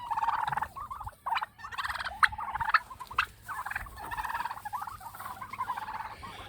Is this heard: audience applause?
no